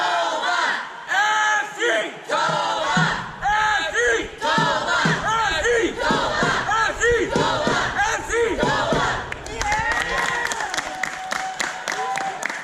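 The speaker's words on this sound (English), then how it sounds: "They were cheering loud and proud despite the less than favorable result" A youth fan section of FC Manitoba cheering at a soccer match, with rhythmic chanting, shouts and clapping rising and falling over the whole stretch, loud and close.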